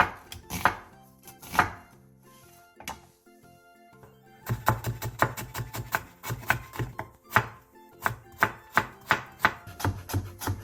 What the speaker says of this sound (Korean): 양파 4분의 1개와 당근 조금을 채 썰어주세요.